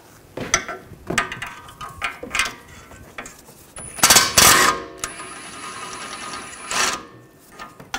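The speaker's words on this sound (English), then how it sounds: "Now we're gonna take the outer tie rod nut off. Use a 21 millimeter socket." Socket wrench ratcheting on the outer tie rod nut of a 2006-2010 BMW 550i during a front wheel bearing job, with bursts of rapid clicking and a few louder metallic clanks at close range, no talk.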